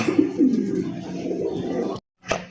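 Pigeons at a crowded pigeon market give soft, rolling coos close by in a continuous murmur, which breaks off into a brief silence before one last short coo.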